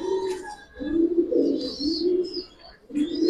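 Silver khaki pigeons coo in low, throaty rolls close by, several phrases in a row with short pauses and faint chirps from other birds in the background.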